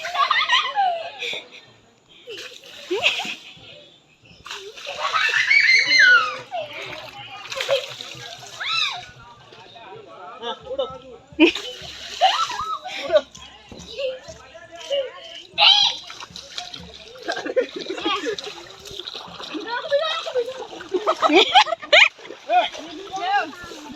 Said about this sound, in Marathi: तू तुडवते पाणी मी नाही उडवत.